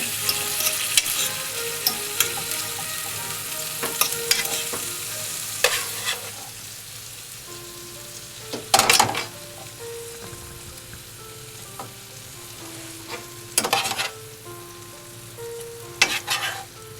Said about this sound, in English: You could scramble the egg ahead of time if you like, but I just do it right here in the pan